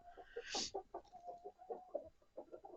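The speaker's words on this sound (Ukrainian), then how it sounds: "Щось тут півник знайшов, цікавий, почав гребтися і ззиває своїх курочок на місце." A rooster scratching at found food gives a run of soft, rapid clucks close by, calling his hens, a brief louder squawk near the start, in a quick repeated rhythm.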